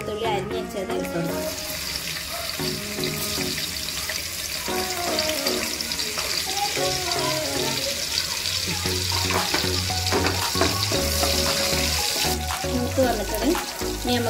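Chopped garlic frying in heated oil, a steady sizzle running under loud music throughout.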